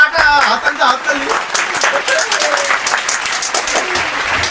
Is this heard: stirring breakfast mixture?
no